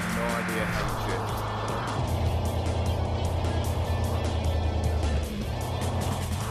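Car engine in a VR drifting video game, a loud continuous engine drone with revs rising and falling and tire-like squeal, while a person talks over it.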